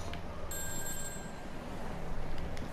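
A phone rings inside the GTA V story mode on PS4, a steady electronic trill in the middle of the clip layered over continuous game background noise and music.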